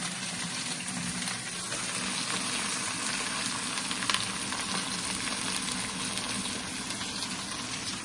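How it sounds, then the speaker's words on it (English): Onion and okra sizzle in a pan, a steady, bright frying hiss with faint bubbling that holds evenly throughout, close by and alone without talking. "my onion is frying up here, and I'm going to throw the okra in now."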